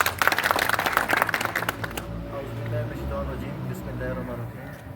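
Dense applause from an audience at a stage gathering in Hazara fills the first two seconds, then stops abruptly, leaving a low room murmur.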